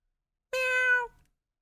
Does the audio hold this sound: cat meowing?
yes